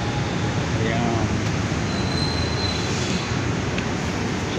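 An LRT train at Baclaran station in Manila, its steady loud rumble of rail cars filling the platform with faint wheel squeal throughout, and a voice speaking briefly over the noise.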